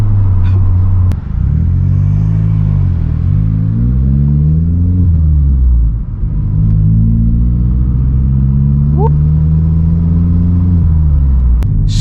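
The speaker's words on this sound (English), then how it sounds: "So this exhaust is literally the perfect amount of noise." A Vauxhall Corsa's exhaust and engine drone loudly from inside the moving car at night, the low tone rising and falling as revs climb, dip and climb again.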